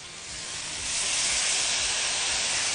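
Soy sauce poured into a hot pan while cooking mushroom stroganoff, a loud, steady broadband sizzling hiss that swells after the first second and holds to the end.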